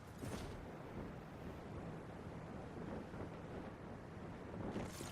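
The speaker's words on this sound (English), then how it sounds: "It's so windy outside, it's kind of creeping me out." Steady wind roars across an open area in the video game Once Human, a continuous hollow whoosh with slight surges, even and moderately loud with no voices.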